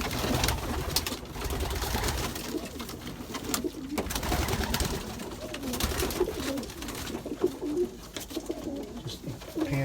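Pigeons coo in a loft in Kentucky, with many birds' low throaty calls overlapping in a continuous, dense murmur, close by and steady throughout.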